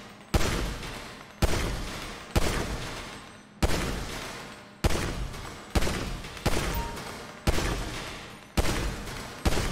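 Handgun gunfire in the GTA V video game, eight loud single shots spaced roughly a second apart, each with a decaying echo, and no talking.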